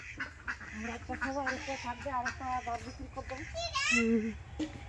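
Ducks at a rural Bengali home, about to be taken for a curry, give off repeated nasal quacks through the clip, mixed with nearby voices and children talking.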